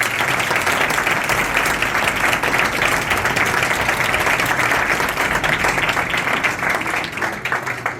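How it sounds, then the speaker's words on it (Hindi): Loud, dense applause from a church congregation at a Palm Sunday service, a steady wash of many hands clapping that holds for the whole stretch before easing slightly at the end. "अगर कोई खुश है तो जोरदार तालियां बजाइए।"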